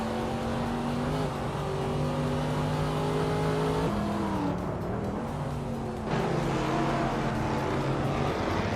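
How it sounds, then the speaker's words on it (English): Engine of a 2014 Maserati GranTurismo race car driving in a race, with a steady loud drone whose pitch holds, then shifts near the four- and six-second marks as it changes gear, alone with no talk. "LXELX Natate is driving a 2014 Maserati Gran Turismo D"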